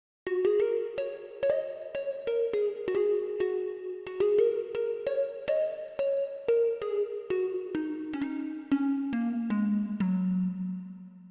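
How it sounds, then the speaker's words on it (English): A dreamy synth pluck preset for tropical and chill house plays a soft melodic line of quick plucked notes, sustained tails blurring together, drifting gently downward near the end, clean and alone. "Plug Dreams is a really dreamy plug"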